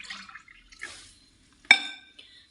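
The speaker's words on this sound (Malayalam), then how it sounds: "വെള്ളം ഒഴിച്ചു കൊടുക്കുന്നുണ്ട്" Water poured into a bowl in short bursts, with faint splashes and a sharper ringing pour near the end, close and quiet.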